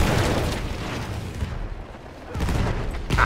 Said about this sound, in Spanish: Esa explosión fue una de las cosas más impresionantes que vi en la guerra